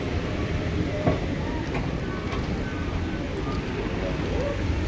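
An airport tram at Las Vegas's airport near the C gates gives a steady, fairly loud rail rumble throughout, with faint clicks and no clear talk.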